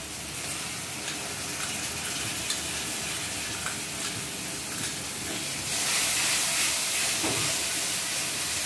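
Spice-and-water masala mixture sizzles in hot oil in a pan for egg kofta curry, a steady broad hiss that swells louder near the end.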